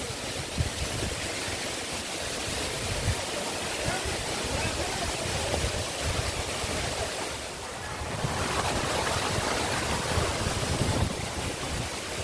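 Bankhaman waterfall roaring as a steady, loud broadband rush of falling water close by, with wind buffeting the microphone throughout.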